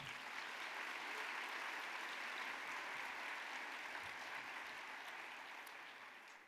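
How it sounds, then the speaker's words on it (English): Sustained applause from a large audience at an awards gala honoring corporate partners, a dense even wash of many hands clapping that holds steady for several seconds before beginning to taper slightly at the end. "Let's give all of our corporate partners a warm round of applause."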